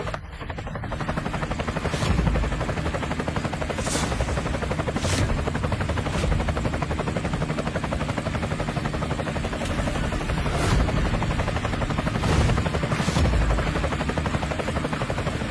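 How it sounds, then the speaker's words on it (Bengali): A helicopter's rotor drones loud and close in a continuous rhythmic chop that holds steady throughout, with no voices. "আরে, ওটা তো কোটি টাকার হেলিকপ্টার।"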